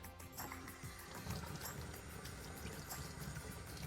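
Running water pours over a slimy northern pike as it is rinsed, a steady close trickle and splash with low gurgling, continuous throughout.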